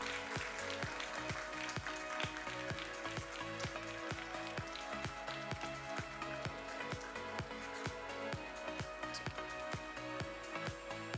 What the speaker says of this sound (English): can we please have a huge round of applause for this?